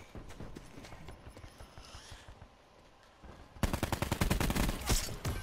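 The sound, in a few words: AR assault rifle gunfire in Black Ops 4 video game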